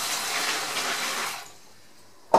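About a litre of cold water is poured into a homebrew fermenter holding sanitizer, a close splashing gush that fades out after roughly a second and a half. A sharp knock follows at the very end, with no one speaking.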